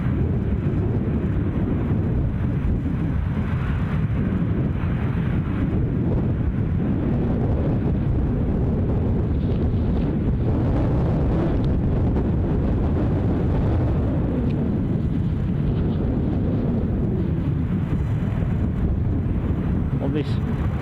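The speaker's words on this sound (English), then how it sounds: "On this dry but incredibly blustery morning." Strong gusting wind roars across the microphone on a dry, blustery morning at Edinburgh Airport, a dense, continuous buffeting that rises and falls for the whole stretch.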